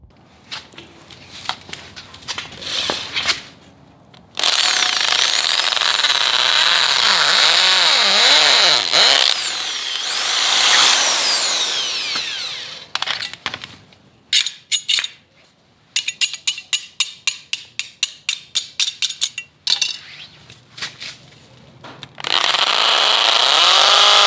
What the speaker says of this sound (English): we're going to use this hand drill and we're going to drill that into the pot